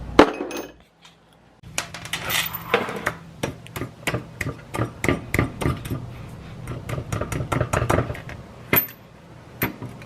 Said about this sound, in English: I might go ahead and get a hammer and then hammer that in